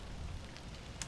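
In the video game Atuel, a rain cloud lets down rain over dry wetlands, a soft, continuous patter of drops that stays faint and even over a brief moment, with no voices.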